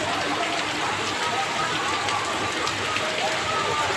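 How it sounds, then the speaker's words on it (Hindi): Heavy rain pours down outdoors in an Odia village, a loud, steady, unbroken hiss that fills the whole span without pauses. "जोर तो वर्षा हो"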